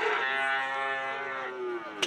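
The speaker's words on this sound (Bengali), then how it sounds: "হলিস্টিয়ান ফ্রিজিয়ান জাতের গরু।" A Holstein Friesian cow at a cattle trader's market gives one long, loud, close moo lasting about two seconds, steady and full before trailing off, followed by a brief click.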